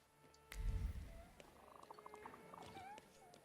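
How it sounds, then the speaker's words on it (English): Cats meow and purr unseen in The Thaumaturge, a video game set in gloomy Warsaw, with faint mewing and soft purring over quiet ambient game sound after a brief low thump. "Hello, cats that I can't see, but I can hear."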